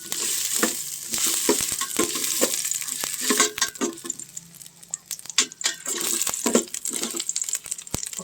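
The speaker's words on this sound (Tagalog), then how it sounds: "Initin muna ang mantika. Nailagay na yung luya." Ginger frying in hot oil for a Filipino sinigang na pampano, crackling and sizzling steadily throughout, with intermittent sharp clinks and stirring scrapes of a utensil against the pan up close.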